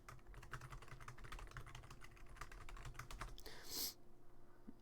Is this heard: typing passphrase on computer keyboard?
yes